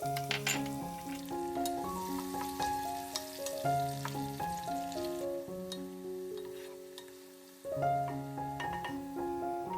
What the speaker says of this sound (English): I start by heating some oil and fry the onions.